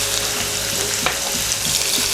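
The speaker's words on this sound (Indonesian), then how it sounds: "Tumis bawang merah sampai harum." Shallots sautéing in hot oil give a steady, dense sizzle close by, with a brief louder crackle midway and no voices.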